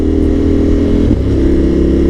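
A KTM motorcycle's exhaust holds a loud, close, deep rumble, with a slight rise in engine pitch midway before it settles back to a steady low throb.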